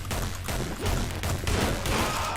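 Rapid bursts of video game gunfire crack in quick succession, loud and close, several shots clustered together with short gaps between volleys.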